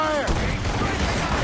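Ship cannons firing in a naval battle in Assassin's Creed Rogue, a loud, dense rumble of overlapping blasts that fills the whole moment. Shouting is heard at the start.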